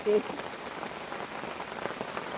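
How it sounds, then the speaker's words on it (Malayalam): Heavy rain pours steadily onto a rural homestead near rubber trees, a continuous even hiss of drops on surfaces with a brief louder sound at the start. "മഴ മുറുകി പെയ്യാനുള്ള മട്ടാന്നാ തോന്നാ"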